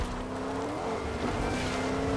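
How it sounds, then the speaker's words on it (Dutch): A pick-up truck drives in Fortnite with a steady, fairly quiet engine hum that holds evenly throughout without any talk over it. "Oh ja, hier gaat een auto. Van een pick-up truck."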